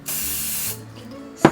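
Hairspray hisses in a steady burst of about 0.7 seconds onto teased hair while styling for a Pakistani/Indian wedding reception, followed by quiet and a short sharp knock near the end.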